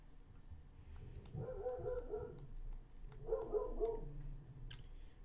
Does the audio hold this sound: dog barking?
yes